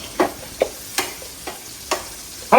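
Onions frying in a pan are stirred, with a spoon scraping in a few separate clacks and swishes spaced about half a second apart over a faint sizzle. No voices are heard.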